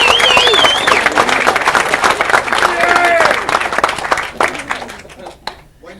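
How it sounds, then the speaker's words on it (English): Wedding reception guests clap and cheer loudly for a guest flown in from the United States, a close, busy burst of applause with scattered whoops and voices that gradually thins out and fades to a few last claps. "So can you please all give her a round of applause?"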